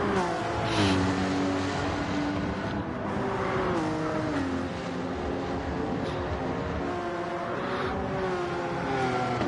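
Porsche and NSX race cars in a racing video game, engines droning and revving together as they rise and fall through gear changes, a constant loud engine wash with no voices.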